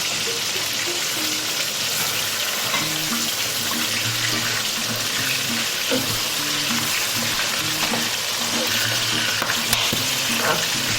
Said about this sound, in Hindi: साथ में हरी मिर्चें भी हमें इसके साथ फ्राई करनी है।